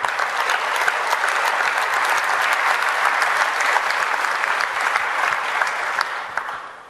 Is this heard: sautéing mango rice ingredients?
no